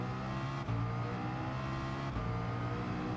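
Race car engine in Gran Turismo at Suzuka, a close, steady high-pitched drone held through the gears, with two quick shifts that briefly break the tone.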